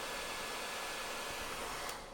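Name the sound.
hair dryer running to heat and lift a foil board pad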